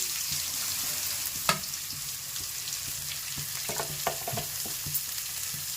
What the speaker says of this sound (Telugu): ఇప్పుడు కట్ చేసి పెట్టుకున్న ఉల్లిపాయలు వేసేసుకుందాము.